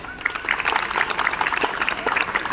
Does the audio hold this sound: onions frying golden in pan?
no